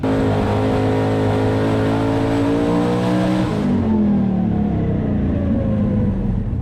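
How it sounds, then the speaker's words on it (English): A twin-turbo small-block Ford engine in a Fox-body Mustang roars under heavy load at high revs on a dyno, then its pitch drops and it eases off, misfiring slightly with uneven stutters. "Sounds like it's misfiring a little bit."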